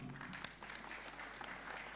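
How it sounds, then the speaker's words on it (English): An audience claps at a talk, a quiet, fairly steady patter of hands heard at low level with room noise beneath. "Please clap for her."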